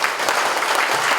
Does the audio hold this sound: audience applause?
yes